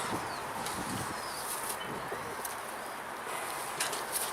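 A pigeon, a young hen apparently, coos in soft repeated low murmurs close by, under a steady broadband hiss of outdoor background, with no talking.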